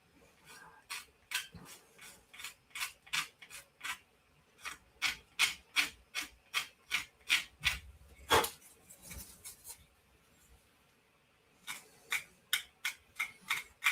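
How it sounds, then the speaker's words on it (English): Rhythmic scraping strokes on a small plastic part from a 1/72 scale Atreides Ornithopter model kit, close and fairly quiet, in short regular bursts with a pause in the middle and one sharper knock. "I can go ahead and just scrape off the minimum bit that's left to kind of smooth that out"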